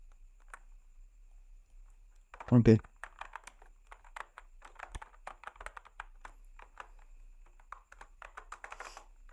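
Computer keyboard typing as Dart code is entered, with a steady patter of light key clicks running through the clip after one louder knock near the start, under quiet background speech.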